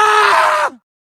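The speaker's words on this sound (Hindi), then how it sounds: "कार चालक यह देखकर वो जोर से चिल्लाता है।" A man's loud, sustained scream of fear in a horror story, harsh and strained for about two-thirds of a second before cutting off abruptly into silence.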